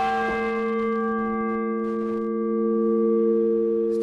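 A clock tower bell struck once, its bright metallic tone ringing on with a long sustained hum that hangs in the air, heard close and alone.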